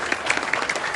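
An audience claps in a short, scattered burst, with individual hand claps popping irregularly at a moderate level.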